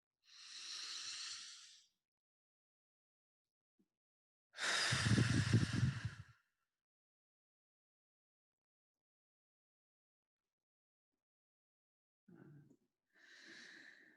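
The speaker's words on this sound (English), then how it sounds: "We're going to take that breath now." A guided meditation breath: a long audible inhale, then a fuller, louder exhale, a long silence, and a brief final breath, all close and unaccompanied.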